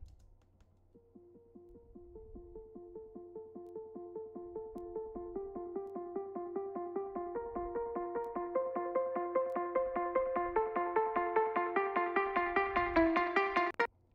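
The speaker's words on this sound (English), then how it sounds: "then on top of that, there's this pluck" A bright synth pluck from a future bass track repeats in a steady, quick pattern, its notes climbing higher and growing slightly louder over about fourteen seconds before cutting off.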